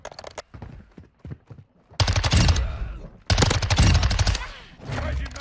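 Bursts of rapid automatic fire from an MX9 submachine gun in Modern Warfare 2 come close and loud, in two long strings after a few scattered shots. Game audio and ambient noise run underneath.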